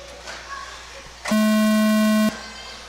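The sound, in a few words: electronic tones on live stream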